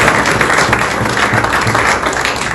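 A dense burst of applause from a crowd, many hands clapping together continuously and fairly loud for the whole stretch.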